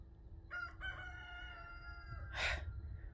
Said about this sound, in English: Then I have this random rooster that I had to rescue last night.